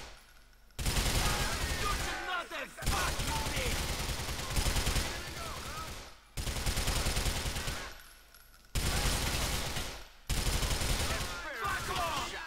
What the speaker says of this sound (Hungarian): Tudtam én, hogy lövöldözés lesz.